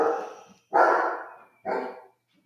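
A dog barks twice, each bark loud, close and slightly drawn out, separated by a short silence, with a faint yip afterward.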